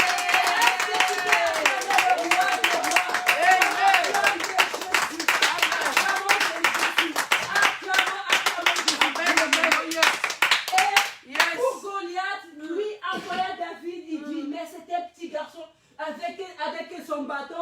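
A church congregation clapping and cheering at a French-language service, with fast rhythmic applause and crowd voices throughout, fading into scattered claps and a speaking voice toward the end.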